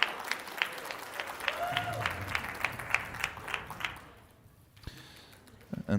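An audience at a weightlifting championship gives a round of applause to the bar loaders. The clapping is sustained and lively, with a voice speaking over it, and it fades to near quiet before a few close bumps.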